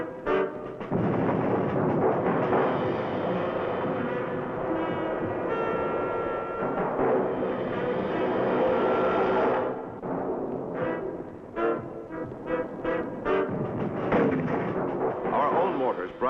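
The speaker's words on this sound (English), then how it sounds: "Mortar shells coming out of nowhere." Mortar shells burst in an artillery barrage during a hilltop battle, heavy booming impacts rolling on continuously, then thinning into scattered thuds, with a narrator speaking over them.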